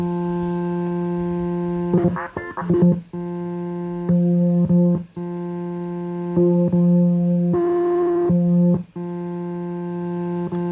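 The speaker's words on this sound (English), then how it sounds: "The Vocoder seems to make a sound on its own." A steady Arturia MicroFreak synthesizer drone with a buzzy, robotic vocoder tone, briefly cut and reshaped by short warbling bursts, loud and close.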